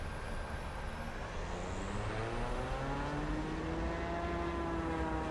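Twin-engine DHC-6 Twin Otter turboprop engines throttled up to full power in the flight simulator MSFS 2024, a steady loud drone with rising and shifting tones holding throughout, no voices.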